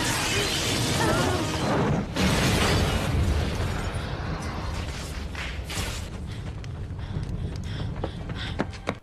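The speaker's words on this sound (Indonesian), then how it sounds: "mobil itu pun meledak" A car explodes in a film scene after a live electrical cable is grabbed, and a loud blast and shattering burst up front fade into rumbling, crackling debris and scattered later impacts.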